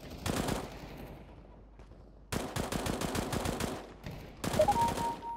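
Bursts of automatic gunfire in the online shooter game CSGO, three separate volleys of rapid shots with short quiet gaps between them.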